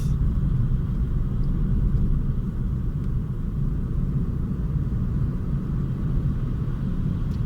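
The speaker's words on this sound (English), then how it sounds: "I think this i3 is good to drive, and it feels very smooth" A BMW i3 electric car rolls along with a low, steady road rumble and a soft hiss of tire and wind noise, even and unbroken throughout, with no one talking.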